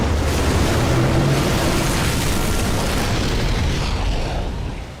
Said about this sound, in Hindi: किसी चीज से उसके पेट के अंदर विस्फोट हो गया।